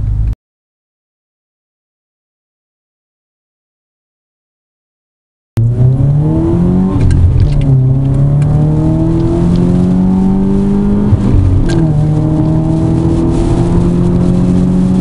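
Subaru Impreza Raptor under a hard acceleration run, engine note climbing steadily through the revs with a brief dip at a gear change, loud and close after a few seconds of silence.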